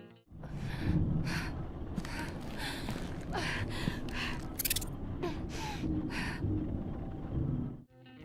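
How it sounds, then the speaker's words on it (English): A woman gasps repeatedly in pain in a Batman Arkham video game, sharp breathy intakes recurring over a low, rumbling background. "you can hear her gasping in pain as he's taking photos"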